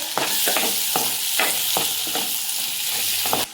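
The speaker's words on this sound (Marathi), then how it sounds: "त्याच्यामध्ये पहिले बटाटा फ्राय करून घेऊ." Potatoes frying in a pan for a spicy mixed vegetable dish, a loud continuous sizzle broken by repeated scraping stirs of a spatula, heard close with no talk.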